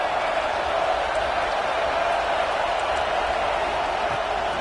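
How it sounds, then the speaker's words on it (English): A large football stadium crowd roars in a steady, dense wash of cheering during a college game near the goal line, continuous and even throughout. "This crowd knows when to bring it."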